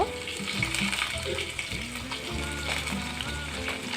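Ginger paste goes into spices already frying in a pan, giving a steady close sizzle with faint stirring scrapes throughout.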